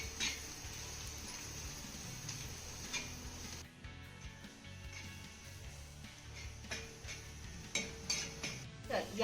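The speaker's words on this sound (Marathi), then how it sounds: "आता हे सगळे मसाले आपल्याला 1 ते 2 मिनिटं चांगले परतून घ्यायचे." Garam masala and salt are stirred in a pan for a dill and gram-flour dish, giving faint, quiet clinks and scrapes of a utensil against metal with occasional sharper taps.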